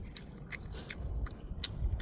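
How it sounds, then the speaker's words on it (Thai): Crisp, crunchy chewing with several sharp bites standing out over a low background rumble, close and fairly quiet. "เสียงกรุบๆเลยเนี่ย"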